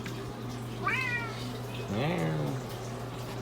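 A house cat meows twice in a fishroom, the first call short and rising, the second longer and drawn out, close by over a steady low mechanical hum.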